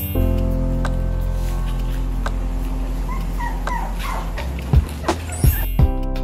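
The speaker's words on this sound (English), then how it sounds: "Dog" Dog sounds heard as a short run of yips and whimpers ending in a few sharp barks near the end, with a steady background underneath and no talking.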